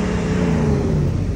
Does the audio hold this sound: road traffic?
yes